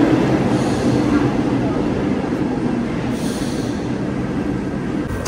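A Paris metro train rumbles loudly and steadily, a dense, continuous roar of wheels and carriage noise filling the whole stretch with no pause.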